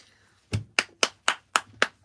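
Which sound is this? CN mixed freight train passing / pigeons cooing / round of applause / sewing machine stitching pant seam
round of applause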